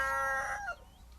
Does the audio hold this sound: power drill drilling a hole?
no